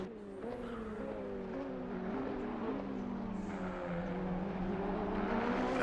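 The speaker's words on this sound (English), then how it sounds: "The car does sound immense though, absolutely immense." A Ferrari race car engine in a racing video game at Monza revs high and downshifts, the pitch dropping in stepped falls before climbing again, loud and continuous with tire squeal edges.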